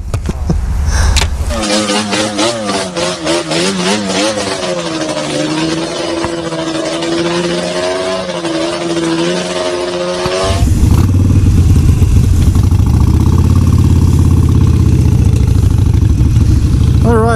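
Motorcycles idle close by, then one starts up with a rising, wavering engine tone and steady revving for several seconds before a heavier rumble takes over as the bikes pull out, loud and continuous.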